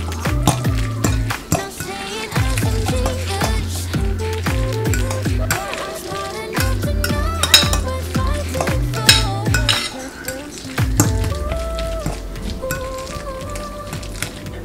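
A spoon stirs mashed banana, oats and nuts together in a bowl, making repeated scraping and clinking strokes under loud background music, with no talking.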